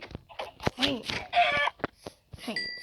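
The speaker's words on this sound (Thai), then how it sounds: "ไก่" Clucking and squawks from chickens in the Minecraft video game sound in short bursts, mixed with a person talking close by.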